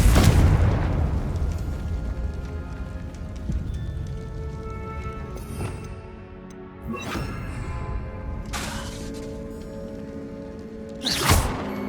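Confringo fire spells in Hogwarts Legacy explode in several booming bursts spread over about twelve seconds, each a sharp blast fading into rumbling debris, with the loudest near the end.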